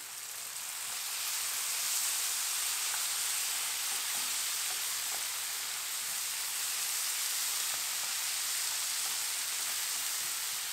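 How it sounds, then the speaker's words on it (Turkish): Steady, even sizzling from a hot pan as diced tomatoes sauté, a continuous crackling hiss with no talking. "Şöyle 1 dakika kadar da domatesle birlikte kavuruyorum."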